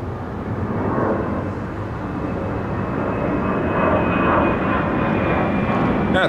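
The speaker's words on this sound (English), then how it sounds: "there's a plane coming through the smoke from the airport" Airplane climbing out from Sydney airport through thick bushfire smoke, a steady broad engine roar holding loud and continuous throughout, swelling slightly toward the middle.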